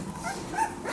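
A three-week-old natural-bobtail puppy named Matrix lets out soft, brief whimpers and faint yips close by in a quiet room, with no talking.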